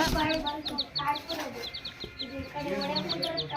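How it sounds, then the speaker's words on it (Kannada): Many small chicken chicks chirp in quick, high repeated peeps throughout, with background voices and household noise underneath. "ನನ್ನ ಮಕ್ಕಳು ಕೋಳಿ ಪುಳಿ ಇಟ್ಕೊಂಡಾರ"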